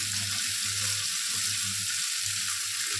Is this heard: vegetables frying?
yes